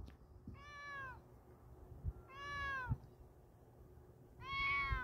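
A hungry cat meows at a window, three drawn-out, clear meows spaced evenly a second or so apart, close and moderately loud with light rustling between them.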